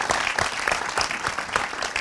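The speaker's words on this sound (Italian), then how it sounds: "Nicola Pietrolungo, lì nascosto, ma insomma un applauso anche per lui, per Piper Film." Audience applause at an Italian film presentation, a dense steady patter of many hands clapping at once, fairly close and without talk.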